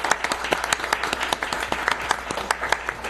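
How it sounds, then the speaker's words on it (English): Applause from the audience at a Capitola city council meeting: a steady patter of many hands clapping, moderately loud and fairly close, with a few sharper individual claps standing out. "Applause is appropriate."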